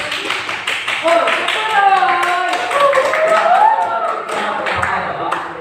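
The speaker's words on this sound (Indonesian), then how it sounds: "Kasih aplaus untuk kelompok 1" Classroom applause from a group of students for the first presenting group, a dense patter of clapping lasting several seconds with a teacher's voice speaking over it.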